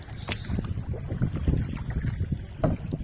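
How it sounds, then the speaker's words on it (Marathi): Kayak paddled on water during a Konkan boating outing, with repeated splashy paddle strokes and water sloshing close to the microphone under gusty wind noise. "आम्ही सर्वात भारी बोट चालवतो असं आम्हाला तरी वाटतंय"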